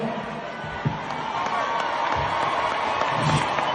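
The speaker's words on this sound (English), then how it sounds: "A long, genuine embrace, and the crowd erupted." A large crowd cheers and claps as two celebrities share a long embrace, a broad roar of voices and applause building and holding across the moment with occasional louder whoops.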